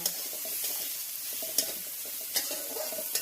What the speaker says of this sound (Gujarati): એને થોડી વાર તેલમાં સંતળાવા દઈએ